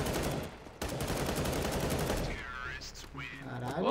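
Gunfire rattles in rapid bursts during a competitive online shooter match, loud and continuous before thinning out. Electronic game tones and chirps follow near the end.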